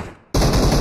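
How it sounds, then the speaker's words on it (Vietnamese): Sudden loud burst of automatic gunfire in a mobile battle-royale shooter, Free Fire or PUBG Mobile, cutting in after a brief quiet moment and continuing as a dense, close rattle. "Anh đang bắn nhau bên đó."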